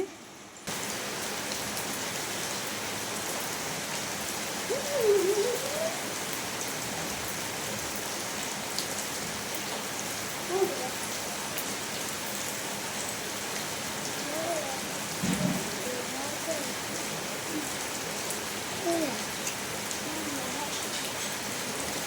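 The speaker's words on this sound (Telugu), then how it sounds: "చూడండి వర్షం చూడండి చాలా బాగా వర్షం పడుతుంది" Heavy rain pours in a steady, dense hiss that holds evenly throughout, with a few soft knocks and no voices.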